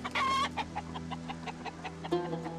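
Chickens in a small coop cluck in a quick irregular series of short, close calls, with one louder drawn-out squawk at the start and another near the end.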